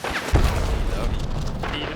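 A single muffled grenade blast in Hunt: Showdown thumps early on, followed by rumbling background noise.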